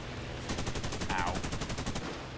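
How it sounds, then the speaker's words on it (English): Rapid bursts of an aircraft's rear machine gun in a video game, a steady rattling stream of shots for about a second and a half, close and fairly loud, against constant engine drone. "I'm trying to get the rear gun and shoot a little."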